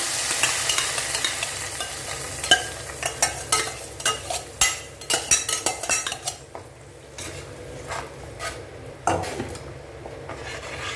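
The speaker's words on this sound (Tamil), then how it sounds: "நல்லா சுருள சுருளை வதக்கி இருக்கணும்" Chana dal and curry leaves for a chutney being sautéed in a pan, with a spoon scraping and clinking against the metal in irregular bursts over a low sizzle, close and fairly loud, without talk.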